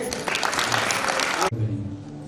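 Wedding guests at the ceremony for Emanti and Hemesh break into loud, dense clapping that stops abruptly, leaving quieter room tone with faint voices.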